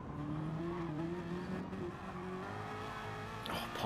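A race car in Gran Turismo at the Nurburgring GP circuit sliding sideways, its engine droning steadily with tire noise, fairly faint, ending in a brief burst of skidding.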